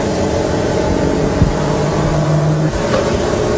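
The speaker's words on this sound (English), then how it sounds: "the motor will start running" A magnetic induction motor hums steadily with a low, even drone, a brief tone rising as it comes up to speed.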